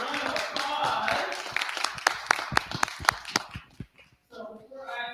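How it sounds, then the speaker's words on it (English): Audience applause at a seminar on credit and home buying: a scattered round of claps rises beneath a speaker's voice, becomes sharper and sparser, then fades out as talking resumes. "Let's give Staci a round of applause."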